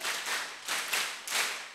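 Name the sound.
audience clapping five times in rhythm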